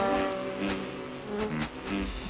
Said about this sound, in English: Bullet bees!